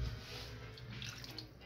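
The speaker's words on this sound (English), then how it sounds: "So what you do is you put water in there until..." Tap water running steadily into a cooking pot for stew ribs, a continuous close, moderately quiet rush with no talk.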